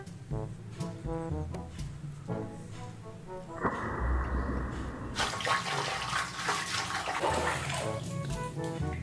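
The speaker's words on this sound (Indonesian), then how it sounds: "Lanjut kita kucek dan kita bersihkan." Water splashes and sloshes as plastic dinosaur and shark toys are scrubbed clean, with irregular near bursts that swell into a louder rushing wash midway, nearly alone with little talk.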